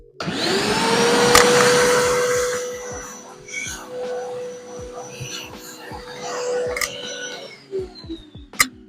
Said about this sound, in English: Let's quickly give it a vacuum.